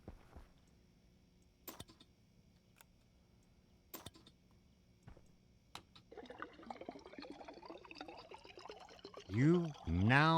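Water being made and poured into a refilled water bottle in the video game Stationeers: a few sparse clicks, then a steady pouring trickle that builds and holds to the end, with a voice briefly heard near the close.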